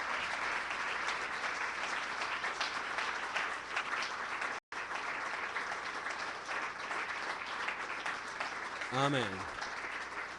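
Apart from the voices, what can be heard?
congregation applauding in church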